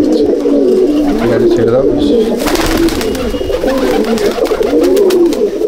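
Pigeons coo in a Bengal racing loft, a steady dense murmur of low warbling calls carrying on throughout, with people talking close by over the birds.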